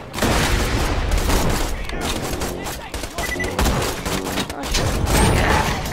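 Sniper rifle fire in the video game Borderlands 2, dense with repeated gunshot bursts and booms layered over constant game action, loud throughout the scene.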